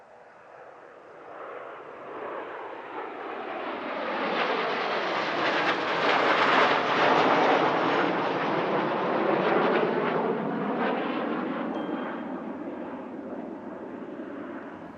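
Patrouille de France jets performing the Le Shérif manoeuvre at an air show at La Ferté-Alais, a broad roar swelling as the formation passes overhead, peaking midway, then slowly fading, loud and steady with no voices.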